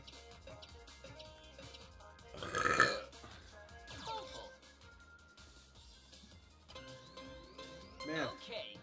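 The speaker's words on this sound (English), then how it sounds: "I apologize for all the belching." A man belches loudly during a video game session, one long burp near the middle and a shorter one toward the end, over game music and effects.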